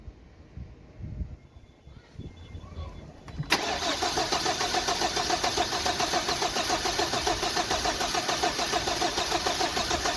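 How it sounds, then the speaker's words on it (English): A 2015 Hyundai Sonata engine with a hard-starting fault cranks quietly for a few seconds, then catches into a loud steady idle with an even rhythmic pulse. "So it's having difficult start. It will keep long before it will start."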